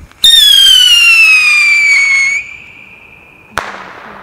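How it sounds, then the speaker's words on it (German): A firework rocket screeches upward with a loud, falling whistle for a couple of seconds, then a sharp bang cracks out after a brief gap. "Also der Knall ist halt so enttäuschend, weil dieser Kreischaufstieg so übel ja, krass ist."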